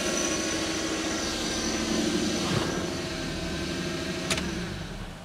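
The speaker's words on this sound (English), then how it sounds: "Engine's hunting all over the place." A 1995 Lexus SC300 engine runs steadily at close range, a continuous droning idle with slight swells in pitch as it hunts, and a brief sharp click near the end; no one speaks.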